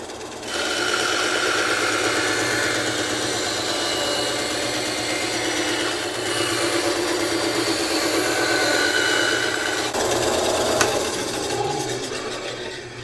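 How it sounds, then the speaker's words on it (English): A Wen band saw cuts through wood in a workshop, a loud continuous whirring motor and blade rasp that holds steady for about ten seconds before the cut finishes and the tone shifts. "we had to do a cut to make sure our bandsaw worked"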